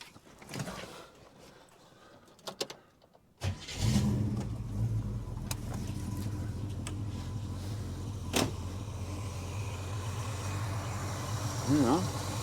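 Holden HK car engine with a leaking heater core catches and settles into a steady idle, heard close after a brief quiet stretch, with mechanical clunks and short voices over the running engine.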